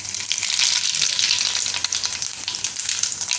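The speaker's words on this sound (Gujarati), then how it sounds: "તો હવે તેલ ગરમ થઈ ગયું છે આપણું. એમાં થોડુંક જીરું નાખશું આપણે." Cumin seeds sizzle in hot oil, a bright crackling fry that stays loud and close with fine popping throughout and no talking.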